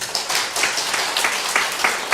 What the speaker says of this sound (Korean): 하나님 앞에 영광의 박수 한번 드립시다